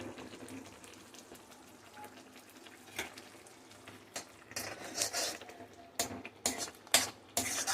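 Potatoes and Kashmiri chilli powder fry gently in a pan on a low flame for Kashmiri dum aloo, a soft steady sizzle building toward the end with sharper crackles and a few utensil scrapes, no talking.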